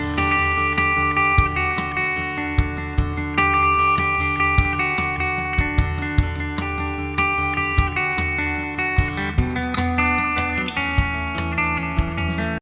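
A 2010 Gibson Explorer electric guitar plays clean picked chords and notes through a Marshall amp sim, ringing and sustained with regular strums across the passage and no voices.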